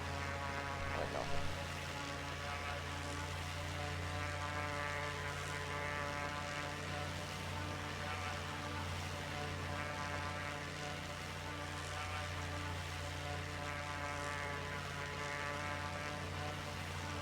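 A propeller aircraft engine in the flight game Flyout drones continuously at about 2300 RPM, a steady tonal buzz with layered harmonics, loud and unchanging throughout.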